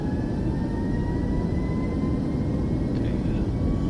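Boeing 737 jet engines spooling up for takeoff in Microsoft Flight Simulator 2024, a steady loud roar with a rising whine, continuous and close with no pauses.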